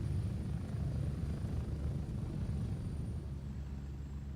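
Helicopter in the video game Gray Zone Warfare, a steady low rotor and engine drone held at constant loudness throughout, with no voices over it.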